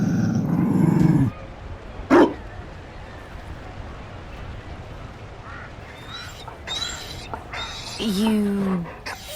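A Mabari war dog in the fantasy game Dragon Age: Inquisition gives a low growl and a short bark up close, set among game dialogue and voices.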